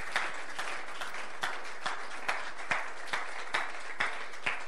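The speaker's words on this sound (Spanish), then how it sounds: "Denle un aplauso a Jesús," Church congregation clapping in praise at the close of a sermon, a soft, even patter of many hands, with louder claps landing in a fairly regular rhythm, heard at a distance with no talk.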